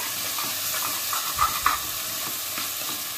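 A pot of khichdi being stirred as dal is mixed in, soft scraping and gentle sizzling under a steady hiss, with a couple of brief louder clinks near the middle.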